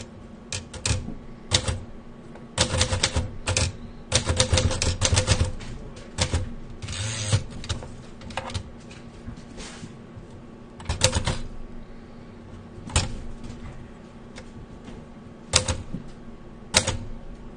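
Keys clack on a mechanical typewriter in clustered bursts and scattered single strikes, close and crisp, over a faint background hum.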